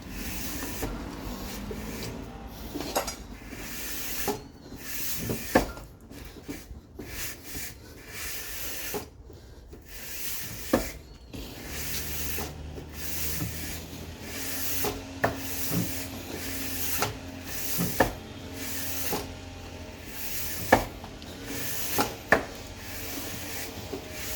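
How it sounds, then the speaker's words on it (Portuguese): Sandpaper rasps steadily across a Citroen C3 cylinder head during a valve job, a fine-grit abrasive scrubbing in continuous back-and-forth strokes with occasional sharper knocks, close and alone with no talk. "Agora eu coloquei uma lixa um pouco mais fina"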